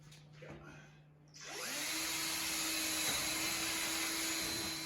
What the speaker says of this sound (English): You're just drilling the holes in?